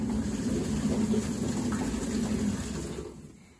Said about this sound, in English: So that right there was the pump in motion and it was working.